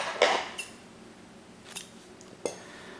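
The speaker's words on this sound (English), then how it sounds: "Now I'll chain 1 and I'll cut this yarn." Scissors snip through crochet yarn: a sharp close cut near the start, then a few lighter, quieter clicks of the blades in a quiet room.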